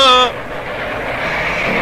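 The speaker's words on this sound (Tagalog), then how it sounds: "palapit na ang tren" A steady rumble and hiss of a train rolling nearby, growing slightly louder, after a brief harmonic tone at the start.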